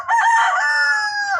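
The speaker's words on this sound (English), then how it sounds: "the morning came and the rooster Would alert you cock-a-doodled" A rooster crows once, loud and close, in a single drawn-out cock-a-doodle-doo lasting over a second that falls away at the end.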